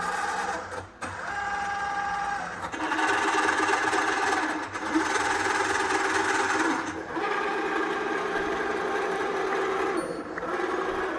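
CNC machine driven by an electric motor through a belt drive, running with a steady mechanical whir and hum that shifts in intensity every few seconds, close and continuous with no speech.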